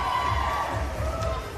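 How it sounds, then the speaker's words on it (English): Wrestling fans in West Newton's House of the Renegades cheer and applaud in a steady, dense roar from a packed arena, with scattered shouts over a continuous wash of crowd noise. "getting quite the ovation from the West Newton faithful here in the House of the Renegades"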